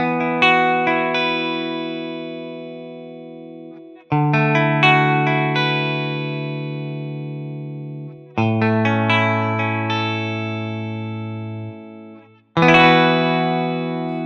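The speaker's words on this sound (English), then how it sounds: "I played a few arpeggios and it sounded like this" A Rickenbacker 330 guitar plugin plays four ringing chords as arpeggios, each left to sustain and decay for a few seconds with a shimmering chorus-like tone, no voices.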